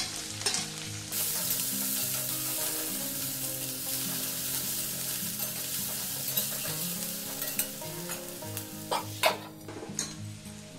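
A large onion, dried red chilies and a bay leaf crackle loudly in hot oil, a dense, close sizzle that runs throughout, with a few spatula scrapes and pan clinks near the end.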